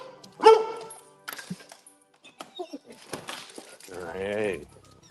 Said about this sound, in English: Dog getting a little crazy.